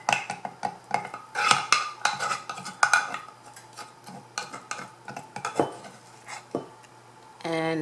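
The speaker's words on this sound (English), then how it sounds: "I will use this to pound the garlic into the consistency that I would like it to be." Garlic being pounded in the kitchen, a run of sharp, irregular knocks and clinks close up, some rapid and others spaced out, with a brief scraping rattle at the end and no talking.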